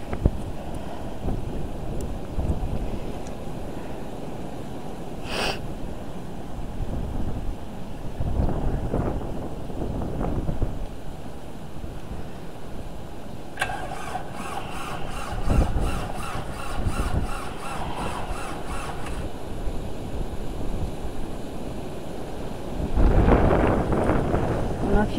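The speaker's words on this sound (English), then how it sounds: "You can hear this wind, but it's really loud." Loud, roaring blizzard wind buffets the microphone for a long stretch, gusting and thumping, with a brief rattling noise midway and scattered faint voices.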